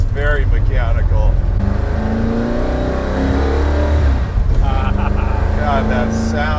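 Superformance Ford GT40 Mk1 replica race car with a mechanical 1960s-style V8, revving loudly in bursts with a deep throbbing exhaust, while people talk excitedly over it.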